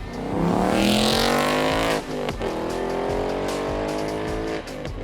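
A 2021 Ford Mustang Mach 1 engine and exhaust roar close by while driving, revs climbing in long sweeps, dropping sharply at gear shifts, then climbing again.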